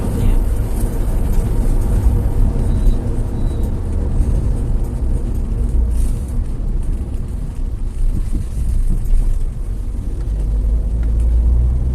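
A 2011 Toyota Avanza fitted with an Excord Power device pulls in fourth gear, a steady loud cabin rumble of engine and road noise with some wind buffeting throughout.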